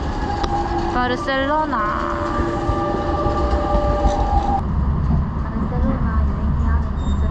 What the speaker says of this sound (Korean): 지금 바르셀로나를 향하는 기차가 오고 있네요.